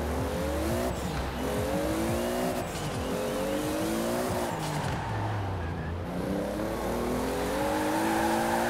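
A 2JZ-powered Hot Wheels car in the Forza Horizon 4 racing game revs and pulls through gears, its engine note climbing and dropping repeatedly with tire squeal, loud and continuous.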